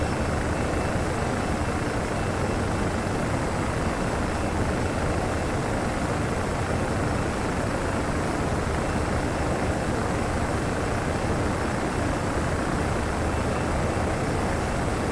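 Airbus A318/A319 jet engines roaring during takeoff in the Prepar3D flight simulator, a loud, steady, unbroken broadband rush sustained for fifteen seconds with no talk.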